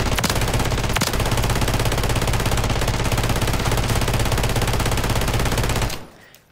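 Holger 26 fitted with the JAK Burnout Kit in Modern Warfare 3, firing in one dense, unbroken rapid burst of loud gunfire for about six seconds before it cuts off abruptly.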